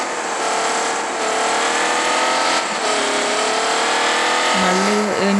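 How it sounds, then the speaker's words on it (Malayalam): A Rolls-Royce engine in the mobile driving game Car Parking Multiplayer runs steadily and loud throughout, a dense smooth roar with a slight rise and dip in pitch, plus a brief low tone near the end. "എനിക്കിതിൻ്റെ എൻജിൻ സൗണ്ട് ഭയങ്കര ഇഷ്ടമാണ്."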